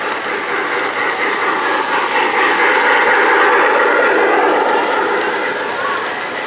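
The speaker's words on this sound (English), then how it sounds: "Hear the clickety-clack as well." A model train runs on a Christmas layout at a fire company display, giving a continuous close rolling rumble with rhythmic clickety-clack over the rails that swells slightly in the middle.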